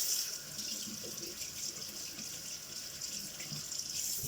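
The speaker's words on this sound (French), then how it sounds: "je vais mouiller mes mains. Alors déjà avec de l'eau froide" Cold tap water runs steadily into a sink as hands are wetted, making a continuous soft splashing hiss at moderate level with no talk.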